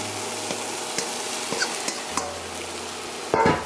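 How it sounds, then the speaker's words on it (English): Tofu dropped into a pan of softened, fragrant vegetables for an oil-free scramble, giving a steady, moderate sizzle with a few soft scrapes, then a louder burst of clatter and hiss at the very end. "we're going to go ahead and throw in our tofu"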